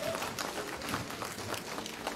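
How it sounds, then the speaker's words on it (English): An audience applauds a speaker at a women-in-procurement event, a steady wash of many hands clapping that sounds moderately distant and continues evenly for the whole stretch without any talk. "Round of applause for PS"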